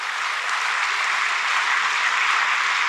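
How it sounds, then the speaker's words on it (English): An audience at an economics discourse breaks into sustained applause, a dense, even wash of many hands clapping that stays loud and unbroken throughout, with no voices. "give him a round of applause"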